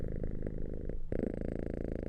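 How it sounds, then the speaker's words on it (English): A cat purring up close, a steady low rumbling drone running throughout with a slight change in texture midway. "More kitty cats."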